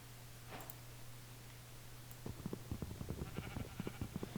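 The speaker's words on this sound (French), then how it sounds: "Il y a des petits moutons" Small sheep bleat faintly in a video game, a soft early cry over a low hum, followed by a run of quick, light clicking taps.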